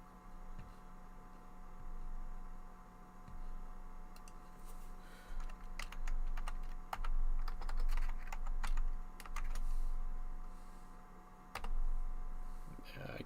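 Typing on a computer keyboard while editing a HyperCard script on a vintage Macintosh, with bursts of quick, close clicking keystrokes over a steady low hum, busier in the second half with brief pauses.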